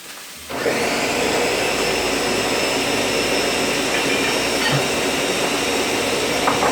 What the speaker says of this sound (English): In the meantime, we can blend our salsa